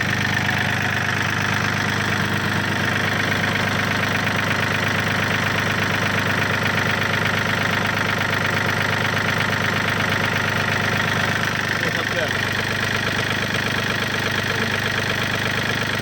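A Yanmar 39 hp tractor engine idles in a steady, loud, continuous chug with a knocking diesel rhythm and no voices over it.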